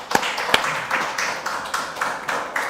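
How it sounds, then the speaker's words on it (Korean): A Korean church congregation claps during a Sunday worship service, starting with a few sharp, loud individual claps and then settling into rhythmic group clapping that pulses at a steady beat. "하나님께 영광의 박수를."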